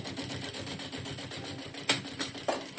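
A sewing machine running a close edge stitch on synthetic fabric and lining for a small backpack, a steady rapid needle rattle with a few sharper clicks near the end.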